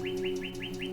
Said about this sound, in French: Dans la forêt, les oiseaux, petit à petit, se réveillent.